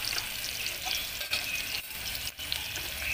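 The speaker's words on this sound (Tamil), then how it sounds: "ஆனியன் வந்து நல்லா ஆயிலில் வந்து ஃப்ரை ஆகிடுச்சு" Onions fry in oil in a pan for a Tamil pepper chicken fry, giving a steady close hiss and crackle with brief dips as they are stirred.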